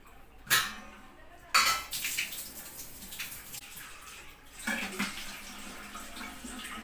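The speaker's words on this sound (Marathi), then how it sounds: "आता आपण भरू कळशी" Water running into a kalshi, a household metal water pot, at home: gushing bursts that start and stop, with clanks of metal vessels, close and fairly loud.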